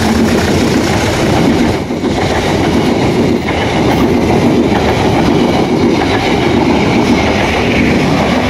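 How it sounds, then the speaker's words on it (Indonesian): A Commuter Line train rolls past close by on the tracks in Indonesia, a loud, continuous roar of wheels and rail clatter with rhythmic clickety-clack throughout. "sebentar lagi segera melintas di sini kereta api Commuter Line"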